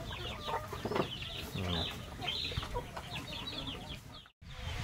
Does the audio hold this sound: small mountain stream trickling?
no